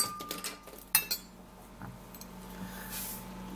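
A metal spoon clinks sharply once while being picked up beside half an avocado, with a few fainter rattles of kitchen utensils around it.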